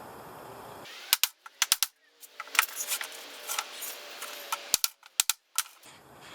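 Nails being hammered into the wooden feet of a homemade plastic bender, a string of sharp, close metallic blows in quick irregular bursts with short pauses between them.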